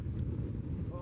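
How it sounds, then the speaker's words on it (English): Cold, gusty wind on Yonah Mountain buffets the microphone with a low, rough roar, steady for a brief moment. "It's cold and it's windy"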